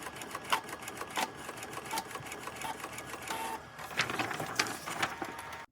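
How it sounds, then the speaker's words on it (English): A Sawgrass 1000 sublimation printer prints a design with a steady mechanical whir and rapid, regular clicking of the print head shuttling back and forth, close and moderately quiet, with no voices. "I'm going to send this to the printer right here. I've got my Sawgrass 1000 selected, and I'm going to click Print."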